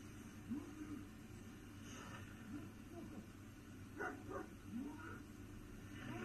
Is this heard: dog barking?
yes